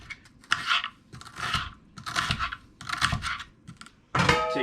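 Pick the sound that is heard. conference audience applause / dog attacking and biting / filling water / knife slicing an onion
knife slicing an onion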